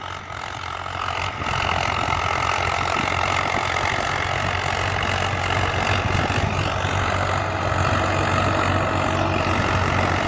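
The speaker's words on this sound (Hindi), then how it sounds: "आवाज़ में दम है भाई ट्रैक्टर की" Swaraj 855 diesel tractor pulling a harrow through a farm field in second high gear: a steady, loud, low-pitched engine drone that holds constant throughout, close by with no voices.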